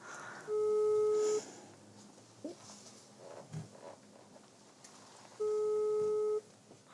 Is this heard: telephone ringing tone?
yes